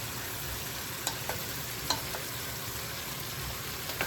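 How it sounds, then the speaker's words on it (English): Vegetables, including onions, stirred in a pot for a traditional South African oxtail stew: a steady, soft sizzle with a few light scraping clicks from the spoon, no voices. "it's time to give my vegetables a stir"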